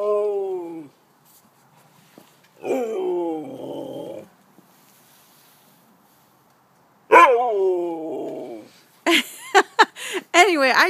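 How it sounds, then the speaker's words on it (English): A pet dog indoors lets out long, wavering howls that slide downward, separated by quiet gaps, then breaks into a quick run of sharp yips and barks at the end. "Yeah, that's my dog howling in the background."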